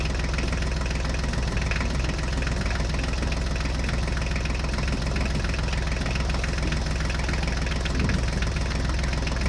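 Mini toy tractor modelled on an Eicher runs with a steady, dense engine drone and rattling idle-like knock, continuous and close for the whole stretch with no talking.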